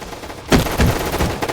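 Rapid gunfire in the Roblox Gunfight Arena video game as a full magazine is sprayed, a burst of repeated sharp shots beginning abruptly and continuing in quick succession to the end.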